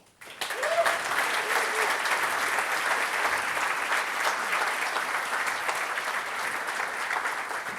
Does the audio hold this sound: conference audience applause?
yes